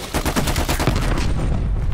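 Rapid full-auto bursts from a C58 assault rifle in Call of Duty: Black Ops Cold War, loud and close, a dense rattling stream of shots running unbroken for about two seconds.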